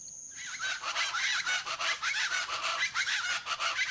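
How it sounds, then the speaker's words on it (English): A dense chorus of honking wild geese calls in South Texas, continuous and overlapping, like a large flock calling together at moderate distance. "the primordial calls of wild geese and sandhill cranes"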